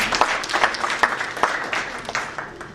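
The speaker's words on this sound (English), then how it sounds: "clap for Kenik." A room of people claps steadily, the applause dense and lively at first and then gradually thinning out.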